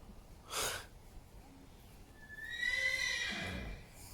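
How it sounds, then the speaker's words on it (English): A horse gives a loud, drawn-out whinny with a snort near the end, following an earlier short burst of noise, heard alone at fairly close range. "Horses."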